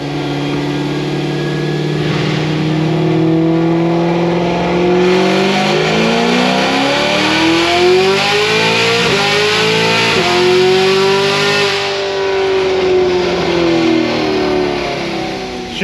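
A Cadillac CTS-V with a tired transmission accelerates hard, its engine note climbing steadily in pitch, dropping abruptly at a gear shift around 6,800 rpm, then rising again, loud and continuous.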